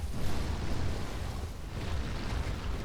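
A giant skeleton ghost spawning and firing projectiles in Elden Ring, heard as a continuous low rumbling roar with dense crackling bursts, loud and steady throughout with no speech.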